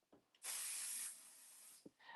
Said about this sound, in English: So I'm going to go ahead and spray this quick off the side.